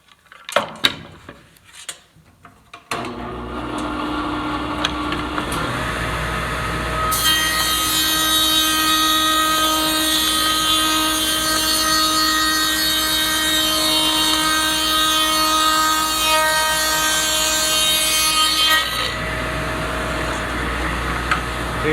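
A table saw spins up and makes a long rip cut through wood for drawer parts, a steady loud whine lasting about fifteen seconds before winding down, after a few knocks of handling the board.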